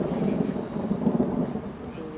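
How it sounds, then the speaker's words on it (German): Thunder rolling from a small storm over a football match in the rain, a low, fairly faint continuous rumble with rain hiss, heard from a distance. "Und im Hintergrund zog ein kleines Gewitter auf."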